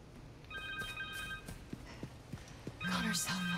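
A cell phone rings in the Spider-Man 2 video game: a bright electronic trill in repeated short bursts, heard over clip-clop sounds and other game noise.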